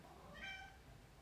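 A pet cat meowing in front of a door inside a house, one clear, slightly drawn-out meow, fairly close, against a quiet room.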